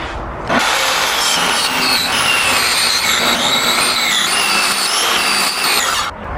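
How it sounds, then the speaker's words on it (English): A circular saw rips through a van door to trim it to size, a loud, close, steady whine running unbroken for about five seconds with no talk, then winding down. "Louie's gonna do that real quick with the circular saw"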